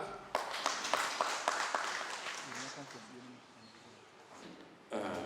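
A series of evenly spaced claps rings out at a workshop in Hoima City, about seven sharp slaps, followed by a quieter stretch and a final burst near the end.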